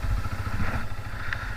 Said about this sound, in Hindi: बस बाइक थोड़ा वार्म अप हो जाए उसके बाद निकलते हैं।